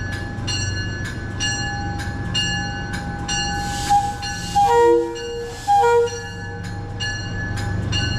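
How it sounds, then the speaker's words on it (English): An MTA cab car, number 6308, pulls out with a train while its squealy horn gives a few short, high toots near the middle, over a steady rumble of rail noise. "the train departs with a few toots of the squealy-sounding horn of MTA cab car"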